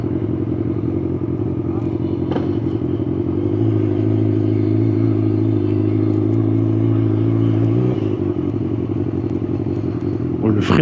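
A BMW S1000R motorcycle rides along with a steady, loud engine drone that rises slightly in pitch midway, with a rider talking over it and brief wind or handling noises.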